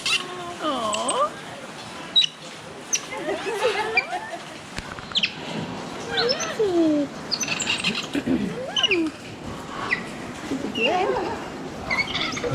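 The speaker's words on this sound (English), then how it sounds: "These are one of the birds that is native to here, the Amazon parrot" Native Amazon parrot at a wildlife spot on Roatan, calling with repeated squawks and whistled chirps that rise and fall, close by and moderately loud, under scattered human talk throughout.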